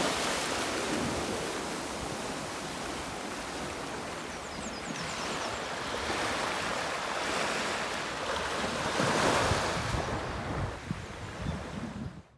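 Surf washing ashore at a small beach, with gusting wind buffeting the microphone, a continuous broad rushing roar that swells and recedes over several seconds, no voices.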